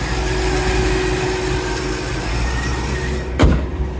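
A car engine idles steadily with the hood open, a close, even low rumble that holds throughout, with a brief knock or thump near the end.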